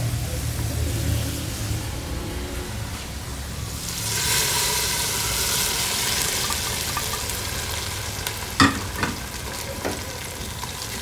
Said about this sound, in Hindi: मैं इसको तड़का लगाती हूँ।